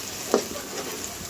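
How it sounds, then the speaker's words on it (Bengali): Onions frying into beresta in oil on a stove, a steady close sizzle with one brief sharper crackle near the start and no talking. "এই ফাঁকে আরেক চুলায় বেরেস্তাটা ভেজে নিচ্ছি।"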